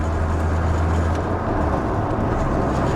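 1992 Mazda RX-7 with a modified clutch driving along, a continuous low engine drone with road rumble as it runs through the gears, close and steady with no talk.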